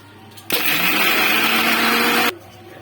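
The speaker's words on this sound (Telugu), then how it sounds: "ఇప్పుడు దీంట్లోకి మనం వేయించుకున్న ఎండుమిర్చి, జీలకర్ర, వెల్లుల్లిపాయలు వేసుకొని కొంచెం ఉప్పు వేసుకొని గ్రైండ్ చేసుకోవాలి." Mixer grinder whirring through roasted dried red chillies, cumin, garlic and salt, a loud steady motor roar starting abruptly and cutting off after about two seconds.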